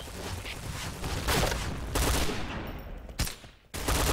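Rapid P90 gunfire in the video game Point Blank on the Desert Camp deathmatch map, dense overlapping bursts with short pauses, loud and continuous across the whole stretch.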